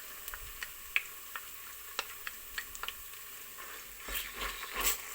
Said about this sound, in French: Je laisse revenir un tout petit peu mon ail